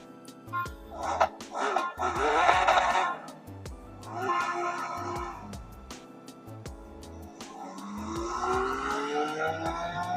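Racing engines roar in the CarX Street street-racing game on a Poco F6 phone, revving in rising, shifting whines over a steady thumping backing beat, loud and continuous with no talk.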